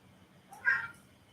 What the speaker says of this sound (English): Kitty cat, what you talking about